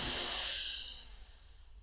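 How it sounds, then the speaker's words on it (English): A long, steady inhalation through an open mouth, close and breathy, holding a hissing airflow for over a second before tapering off into quiet. "it's just breathing in"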